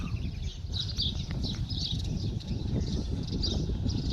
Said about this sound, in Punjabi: ਚਿੜੀਆਂ ਦੀ ਚਰਚੜਾਟ